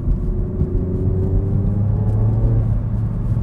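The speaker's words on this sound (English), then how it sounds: "I could just mash the throttle in fourth." A car with an automatic gearbox held in manual mode accelerates hard in fourth gear with the throttle floored on a downhill road, its engine note climbing steadily as a loud, close drone over road rumble.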